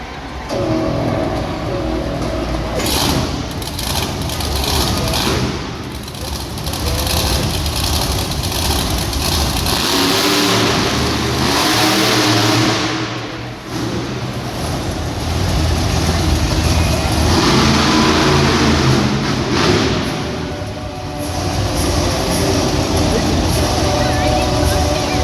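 Tiger Shark monster truck roaring and revving at a Hot Wheels Monster Trucks Glow & Fire live arena show in San Diego, a loud continuous engine drone with surges, under an announcer's voice and crowd noise.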